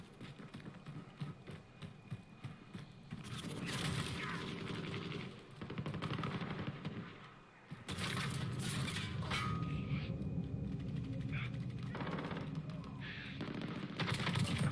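Gunfire in Call of Duty: Modern Warfare multiplayer, rapid bursts of automatic shots and clattering that start after a few seconds and continue almost nonstop, with short lulls, loud and close.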